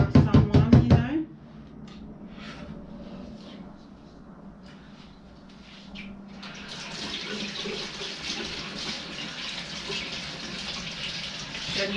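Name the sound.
water rinsing a blender jar after making a smoothie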